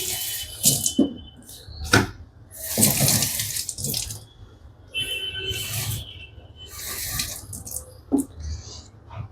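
Municipal corporation tap water runs and splashes into a bottle in bursts, with bright hissing pours separated by pauses and clinks, fairly close and loud, with soft sounds between.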